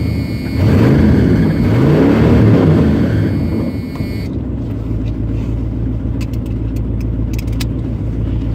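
A Ford F250 pickup's 460 cubic-inch V8 fires up and revs loudly at close range, a heavy rumble swelling early and then settling into a steady, rough idle.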